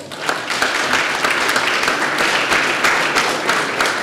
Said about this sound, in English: Can you please give these gentlemen a round of applause?